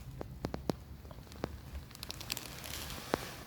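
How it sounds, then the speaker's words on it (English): Rain falling steadily outdoors on a wet day, a soft continuous patter broken by scattered sharper drops and crackly ticks, fairly quiet and with no talk. "It's raining"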